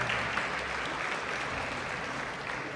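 Audience at a coastal dance festival giving a round of applause, a continuous even wash of many hands clapping at moderate level.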